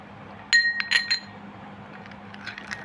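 Light glassy clinks ring out from a utensil tapping a glass bowl as milk is stirred into a homemade cream, a short cluster of bright taps followed by softer scraping, close and alone without speech.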